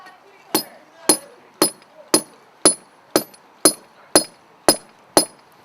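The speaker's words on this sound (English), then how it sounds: "just keep bashing it and it'll sort itself out" A bolt being hammered into place, struck ten times in a steady, evenly spaced rhythm of sharp metallic knocks, fairly close, with faint background murmur between blows.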